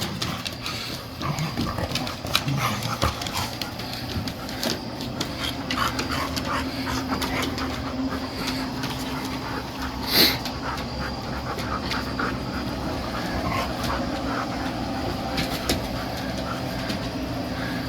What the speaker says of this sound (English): Got the doggies out here.